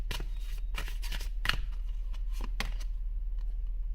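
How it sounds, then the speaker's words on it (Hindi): Oracle cards being handled and drawn from a deck, a quick series of crisp close shuffling riffles and card snaps for about three seconds, then quiet, with no voices. "इस डेक से 2 कार्ड्स लूंगी मैं।"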